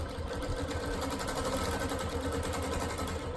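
A longarm quilting machine stitches ruler-guided diagonal crosshatching, a steady close mechanical whir with a rapid, even needle chatter that runs unbroken throughout, no voices.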